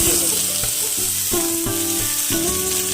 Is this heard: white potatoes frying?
yes